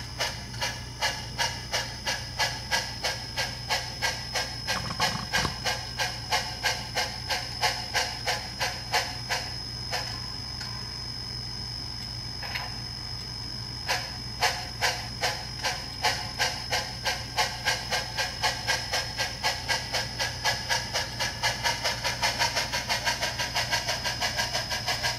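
A Proto 2000 Berkshire model steam locomotive fitted with a Tsunami sound decoder runs steadily, its rhythmic chuffing exhausts repeating over a constant hiss, speeding up toward the end.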